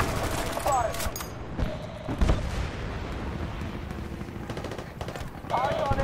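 Gunfire from the video game Battlefield: Bad Company 2 during a firefight, with dense bursts of automatic rifle fire and scattered heavy shots, near and far, under a player's excited talk.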